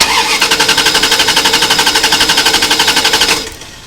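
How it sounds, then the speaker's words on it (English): Car engine being cranked by the starter during no-start diagnosis, a loud, fast rhythmic chugging that repeats steadily for about three seconds without catching, then stops abruptly. "you want to have an assistant crank the engine for you"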